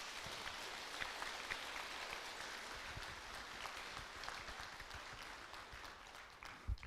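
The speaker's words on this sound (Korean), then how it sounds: "찬탄의 박수 부탁드리겠습니다." An audience at a Buddhist temple gathering claps together in a steady, dense burst of applause that holds at a moderate level and tapers slightly near the end.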